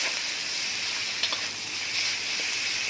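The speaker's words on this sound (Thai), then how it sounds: "อ่าใส่สามชั้นลงไปครับ" Pork belly dropped into a hot pan with fragrant lemongrass aromatics, frying with a steady, dense sizzle that holds evenly throughout, with a couple of brief spits and crackles and no talking.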